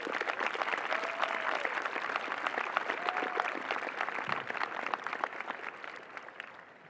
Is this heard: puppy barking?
no